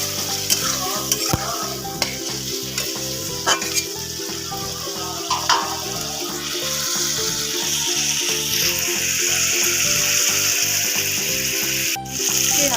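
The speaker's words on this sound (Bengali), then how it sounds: "আলুর সাথে মশলা কষানো হয়ে গেছে" Potatoes and spices for a Bengali bhola fish curry with aubergine fry in a pan, a steady sizzle running throughout with repeated rhythmic stirring and scraping of a spoon against the metal.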